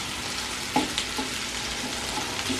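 Smoked bacon frying in a pan gives a steady close sizzle with a few soft stirring knocks, no voices.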